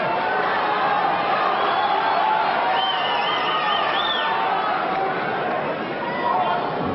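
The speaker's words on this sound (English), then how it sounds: "It's difficult to hear over the crowd here" A large crowd murmurs and chatters steadily at the 1998 Masters snooker final. The hall noise is dense and continuous, with a commentator talking over it throughout.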